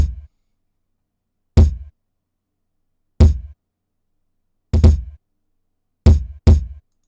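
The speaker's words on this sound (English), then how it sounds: "we have the kick, which is really simple. It just plays repeatedly like this" Deep kick drum hits from a hip-hop beat sound alone, evenly spaced at first, then closer together in double time, each a short boomy thud with silence between.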